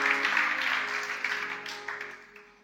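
A church congregation applauds to acclaim God, a dense wash of clapping hands that slowly fades, blended with sustained tones from music in the room.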